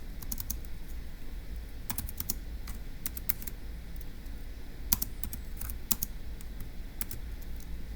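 Notes are typed on a computer keyboard in scattered clusters of crisp key taps over a low background hum, with no voices.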